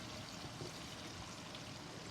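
Water pours steadily into a cooking pan on a home stove, giving a continuous rushing, gurgling stream that stays even throughout the short stretch without any voices.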